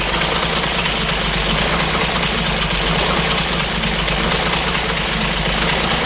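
A car engine with a P1094 fault code idles close by, a loud, dense mechanical rumble with a faint knocking texture, running continuously without pause or voices.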